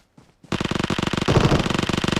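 On the Livik map of PUBG Mobile, a rapid burst of automatic gunfire starts after a couple of faint taps and runs on steady and loud. The shots blur together into a fast, even rattle close by.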